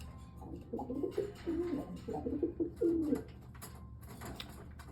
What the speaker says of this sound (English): Pretty good pigeons down there.